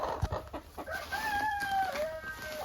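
Chickens clucking and calling close by, with a drawn-out crowing-like call rising over a few soft low bumps.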